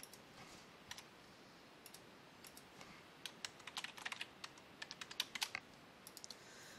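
Light typing on a computer keyboard while entering a login username and password, a sparse run of soft, close key clicks that quickens and clusters toward the end over a quiet room hiss.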